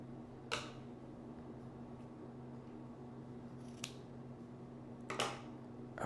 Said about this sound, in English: I'm just gonna cut this perfectly in half